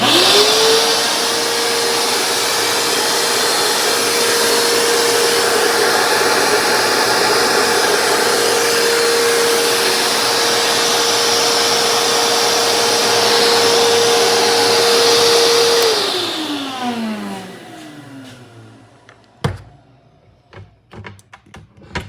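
A shop vacuum fitted with a Dustopper dust separator roars loudly and steadily with a high whine, then winds down after about sixteen seconds, followed by scattered clunks and taps.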